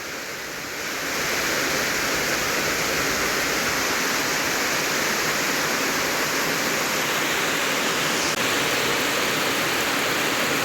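Heavy rain falls over flooded rice fields, a dense, loud and unbroken rushing hiss that stays steady and enveloping from start to end.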